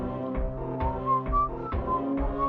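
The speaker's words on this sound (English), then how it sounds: "And I hope whistling isn't like ear piercing on whatever you're listening to this video." Someone whistles a series of short, pitched notes in a loose, repeating rhythm, close and steady, over a faint low background hum.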